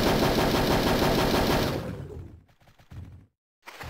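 Loud rapid gunfire from the video game Hogs of War rattles in a dense burst, then breaks into a few scattered shots and a short silence before another burst starts.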